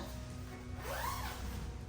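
A jacket zipper is pulled up in one quick rising rasp, close and clear against a low steady background hum. The jacket is part of hiking gear packed for a long trek across New Zealand.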